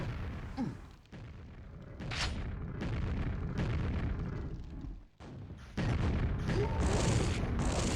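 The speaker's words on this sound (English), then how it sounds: "But the rockets from Dago are pretty good." Rocket explosions in a QuakeWorld duel deathmatch go off as several dull booming blasts, each with a short rumbling tail, amid in-game noise, with a louder burst near the end.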